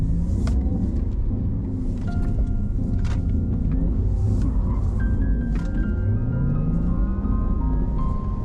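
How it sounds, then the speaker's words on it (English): A Porsche Taycan electric car drives through stormy weather with a constant heavy cabin rumble of road and wind noise, faint electric tones, and no talking. "I'm driving my first Porsche Taycan"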